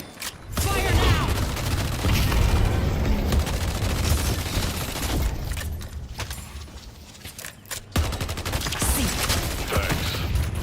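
Rapid gunfire in the video game Deadlock crackles as a dense, sustained fusillade across most of the stretch, briefly thinning near the eight-second mark before resuming, with a voice faintly present underneath.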